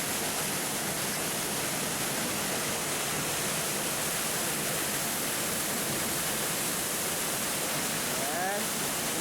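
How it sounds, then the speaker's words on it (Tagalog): Storseter waterfall near Geiranger heard up close, a loud, steady broadband roar of falling water filling the whole clip without a break. "Nakita mo nang malapitan yung waterfall."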